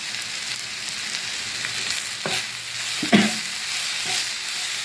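Banana flower thoran with dal and curry leaves sizzles softly in a pan, with a few distinct stirring scrapes and a louder clack partway through, heard up close with no one speaking.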